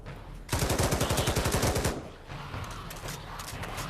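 Rapid bursts of automatic gunfire in the Pavlov zombies video game, one long fast stream of shots followed after a brief gap by a quieter, choppier volley.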